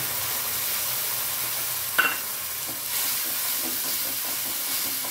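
Tomato paste sizzles in hot oil seasoned with hing, a steady close frying hiss with a brief scrape of a spoon and light stirring.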